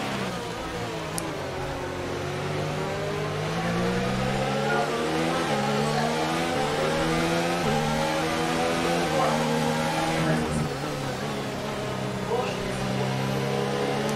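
Formula 1 racing car engine in the F1 video game, a continuous loud whine with rising and falling pitch as it revs through gears, under a voice talking.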